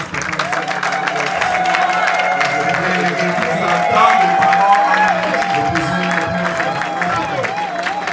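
Guests at a Congolese wedding reception applaud and cheer in a steady wash of crowd noise, heard under a speaker talking over tonal background sound.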